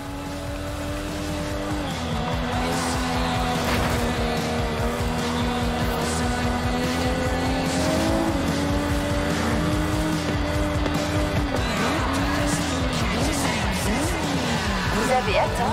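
A car in the racing game Forza Horizon 5 drives almost straight ahead, its engine note rising and falling through gear shifts with brief tire squeals, loud and continuous under background game sounds.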